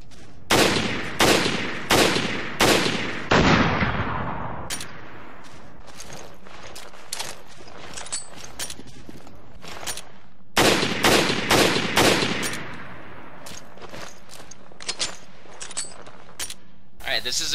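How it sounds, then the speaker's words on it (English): PSG-1 semi-automatic rifle in Resident Evil Revelations firing two volleys of about five loud, evenly spaced shots, each with a ringing tail, separated by a quieter stretch of faint clicks and a voice. "So of course this is the semi-automatic rifle of Resident Evil Revelations."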